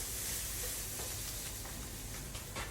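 Carrot, celery and onion sizzle and fry in a pan on the stove, a steady soft crackle with occasional stirring scrapes and small pops, fairly quiet and close.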